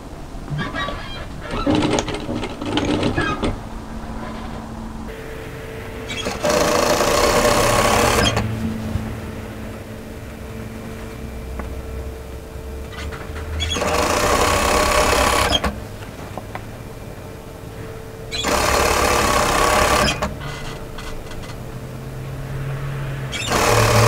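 A domestic sewing machine stitches through the overlocking line on the back of a turtleneck tunic in three loud bursts of steady whirring, separated by quieter pauses with low handling noise.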